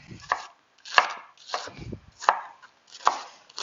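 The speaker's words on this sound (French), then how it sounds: "Nos oignons ont juste besoin d'être coupés grossièrement." A knife coarsely chops onions on a cutting board for a braised lamb parmentier, about six crisp, evenly spaced cuts, close up and clear, with no talking.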